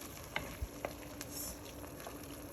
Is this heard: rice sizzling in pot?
yes